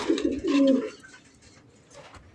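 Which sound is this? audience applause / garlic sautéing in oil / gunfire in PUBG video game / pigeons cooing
pigeons cooing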